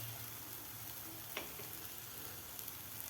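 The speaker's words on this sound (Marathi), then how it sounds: "टोमॅटोचा कच्चेपणा जाईपर्यंत आपल्याला हे वाटण परतून घ्यायचं आहे" A tomato spice paste with turmeric fries quietly in a pan, a soft continuous sizzle with one brief stirring clink, nearby but low in level.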